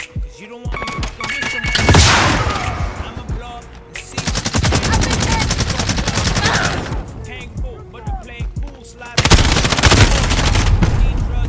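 Bursts of rapid automatic gunfire and single shots ring out in a first-person shooter video game, loud and close, with short pauses and mechanical clicks between volleys.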